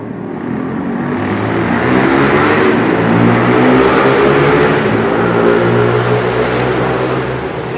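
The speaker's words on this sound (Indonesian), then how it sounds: "ada suara knalpot" A loud, steady engine rumble with exhaust drone, rising slightly as if revving, continuous and close throughout, at Taman Maluku park at night.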